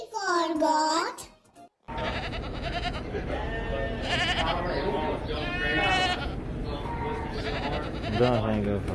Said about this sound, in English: G for goat. G for goat.